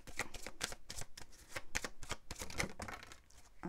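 Playing cards are shuffled and drawn during a card reading, a close run of quick riffling flicks and papery slaps in an uneven rhythm, with no talking.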